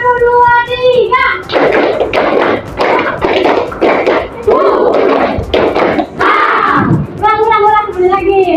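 A class of children claps out the tepuk semangat 1, 2, 3 rhythm, a series of loud grouped bursts of many hands clapping in a patterned sequence, with a voice leading at the start and end.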